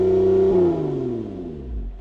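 A Lotus Emira engine revving at standstill against its 4,000 RPM soft limiter, held loud and steady at first, then dropping away as the revs fall back to idle.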